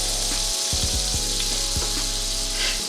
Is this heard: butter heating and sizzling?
yes